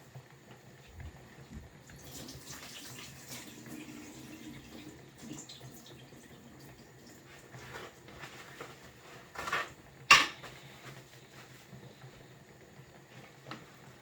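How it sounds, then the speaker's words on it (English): Tap water running into a kitchen sink during handwashing, a faint steady trickle with occasional splashes, clatter and a louder knock near the end, no speech. "I'm just gonna wash my hands and then start seasoning."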